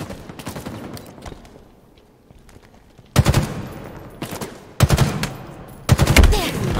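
Gunfire in a Halo video game match: scattered quieter shots at first, then three loud close bursts of rapid automatic fire, each a second or so long, with no voices.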